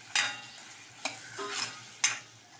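Red chili powder, turmeric and garam masala sauté in a pan with okra and potato, a soft sizzle beneath three sharp scraping strokes of a spoon against the pan, spaced about a second apart.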